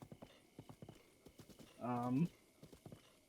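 Steady rhythmic clip-clop of horse hooves at a walking pace in the video game The Legend of Zelda: Breath of the Wild, with a brief horse whinny breaking in midway.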